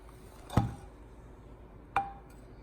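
A microwave-cooked corn cob, stood upright and then let fall, knocks onto a hard surface twice, giving two short, sharp thuds about a second and a half apart in otherwise quiet surroundings.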